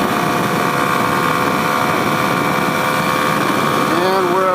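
A 2021 Kawasaki KLX 300 motorcycle engine pulls hard in 6th gear near 60 mph, a steady loud drone with wind rush that climbs slightly in pitch toward the end.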